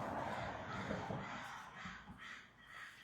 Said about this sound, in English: You hear those crows going?